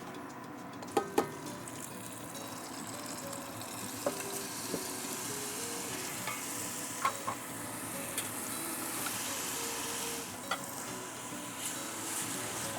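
Vegetables sizzle in oil in a heavy soup pot, giving a constant soft frying hiss with occasional stirring clicks and taps against the pot.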